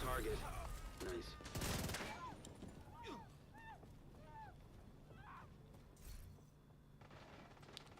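Gunfire rattles in a shooter video game, with a burst of shots early on and scattered weapon sounds afterward, under chirpy game effects and some talk.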